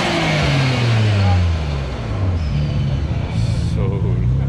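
A Mitsubishi Evo car engine revs and its exhaust roars up and down in pitch, loud and close, with voices talking over it at an outdoor car club gathering.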